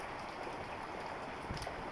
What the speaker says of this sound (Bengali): বৃষ্টিটা মনে হয় একটু কমে গেল